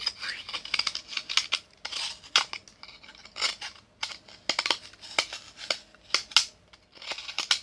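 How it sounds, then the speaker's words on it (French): A utility knife slicing through a sanded material in quick, repeated scraping strokes, close and crisp, with brief pauses between cuts. "On le fait au cutter, on coupe."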